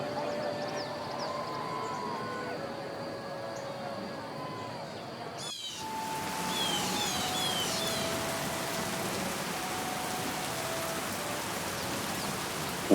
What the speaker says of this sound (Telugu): ఉన్నట్టుండి పెద్ద వాన.